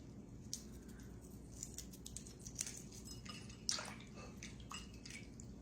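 A boiled egg is peeled in a bowl of water, giving soft drips, small splashes and wet squishes scattered irregularly over a few seconds, close but very quiet against a faint background hum.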